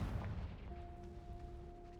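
A Confringo blasting spell explodes in the video game Hogwarts Legacy with a deep, rumbling boom, then a steady, thin ringing tone hangs on for the rest of the moment.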